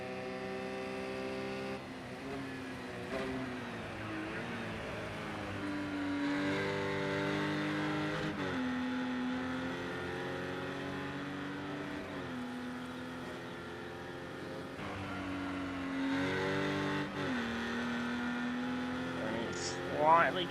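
Porsche Cayman Cup race cars lap Zhuhai International Circuit, their engines droning with rising and falling pitch as gears change, steady and moderately distant, while a commentator talks over them.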